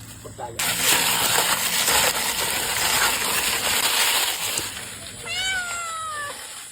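A pregnant cat meows close by, a few drawn-out rising and falling calls near the end after a stretch of loud broadband clatter in a home kitchen where fish is being prepared.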